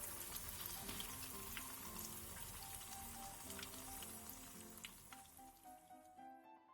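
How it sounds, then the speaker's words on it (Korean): Perilla leaves deep-fry in preheated oil, giving a dense, continuous crackling sizzle that stays even and close before tapering off at the end. "깻잎도 중약불에서 예열한 기름에 튀겨주세요."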